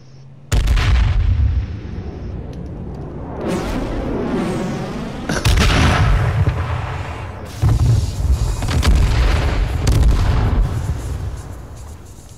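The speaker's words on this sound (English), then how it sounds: "Airstrike is on this side." Loud airstrike explosions in the battle royale video game H1Z1 boom in a rapid series of heavy blasts with rumbling tails, filling the whole stretch with dense, chaotic bursts and no talking.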